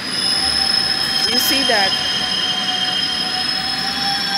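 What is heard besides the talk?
London Underground train running from Finchley Central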